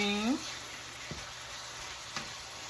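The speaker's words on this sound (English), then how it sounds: "it doesn't take long for ground beef to cook" Ground beef frying in a pan gives a soft, continuous sizzle close by, broken by two brief utensil clicks. A short voiced sound comes at the start.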